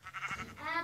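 A Minecraft sheep gives a short, wavering bleat, then a second rising one, close and clear with no talk over it.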